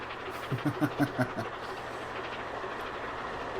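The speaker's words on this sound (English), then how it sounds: "See, you could be riding on board the steam train there." The Tornado steam locomotive runs the Highland Loop in Transport Fever 2, with a quick run of rhythmic clickety-clack wheel beats up close, then a steady rolling rumble and hiss. No one talks.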